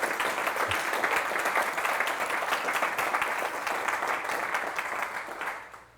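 Sustained crowd applause rings out at the opening of the 2016 summer solstice event in Plouharnel, a thick, even wash of many hands clapping that fades toward the end.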